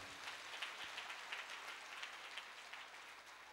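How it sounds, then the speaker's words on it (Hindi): A church congregation claps loudly in thanks during a Hindi Christian worship talk, a dense, steady wash of many hands sustained throughout without pause. "जोरदार ताली बजाकर हम प्रभु को धन्यवाद।"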